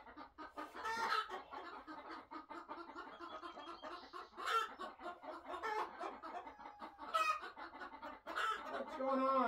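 A brooding hen sits on a clutch of eggs and clucks steadily in a quiet coop. Soft, close, repeated clucks come in an irregular rhythm, with a few louder squawks mixed in.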